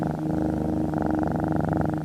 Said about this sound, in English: Now let's talk about the sound, the purr.